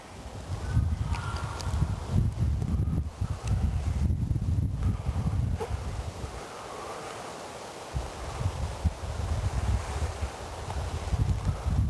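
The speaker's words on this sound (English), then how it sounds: "The wind's swirling in between the trees." Wind gusting through trees at a lakeside outdoor event, a steady broad rushing and rustle with low buffeting that eases briefly midway, then returns, continuous and fairly loud.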